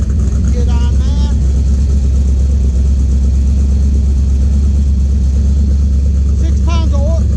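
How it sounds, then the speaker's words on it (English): A 1931 Ford hot rod engine runs steadily at close range, a loud, deep, constant rumble with slight throttle variation, while someone talks briefly over it near the start and end. "bump the key, fires right up real nicely."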